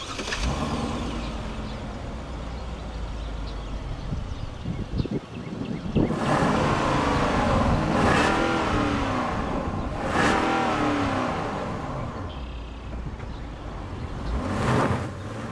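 A Hyundai Genesis G90 luxury sedan drives along with a steady low engine and road rumble, broken by several swelling rushes of wind or passing noise, heard from inside or near the car.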